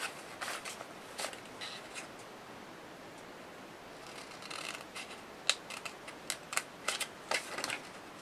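Scissors snipping around a paper image for a 6 x 4 slider card, a series of short, quiet crisp cuts in uneven bursts, sparse at first and then quicker toward the end, with no voices.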